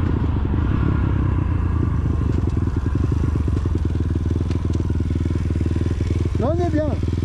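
A CRZ 140 or Bastos MXF 150 dirt motorcycle rides steadily in fourth gear at low revs, a loud close-up single-cylinder putter with a rapid even beat. A brief rising squeal comes near the end, and someone talks over it.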